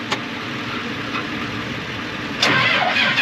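A tractor engine that has been sitting idle through the off-season cranks and fires. It gives a steady mechanical rumble, then grows louder and rougher as it catches near the end. No one speaks.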